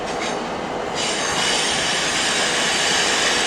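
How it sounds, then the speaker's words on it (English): A CrossCountry HST passenger train of seven carriages, bound from York to Bristol Temple Meads, passes through Leeds station with a steady loud rumble and a high wheel squeal that rises and holds. "down in the distance is a cross-country HFT to Bristol Temple Meads from York"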